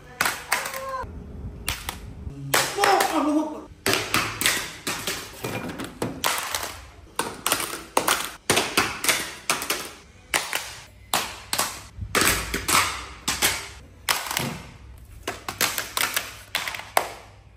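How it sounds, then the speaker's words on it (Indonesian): A Samsung Galaxy Z Fold7 phone slammed and banged on a hard surface, giving a close series of sharp, loud cracks and knocks in irregular bursts, with brief quiet gaps between hits. "Gimana kalau kita langsung buktikan apa jadinya kalau HP ini saya banting-banting?"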